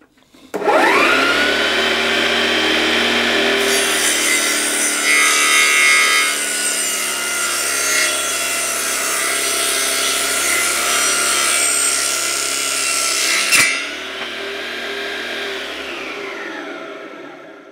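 A homemade mini bench saw driven by a 775 DC motor cuts through a half-inch sheet of plywood, a loud steady whine and rasp that runs for about thirteen seconds before dropping to a quieter free-spinning hum as the cut ends.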